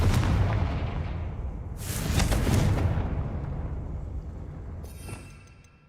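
A Confringo spell blast in Hogwarts Legacy gives a deep, rumbling explosion followed by a crackling burst of debris and a long fading roar, loud and close, ending with a faint rattle.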